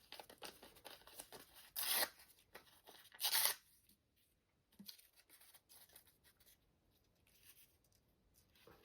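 Newspaper is torn by hand into smaller pieces with close, crisp rips, two of them loud and long. Softer crinkling and scratching fills the quieter stretches between.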